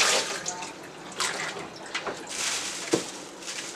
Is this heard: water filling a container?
yes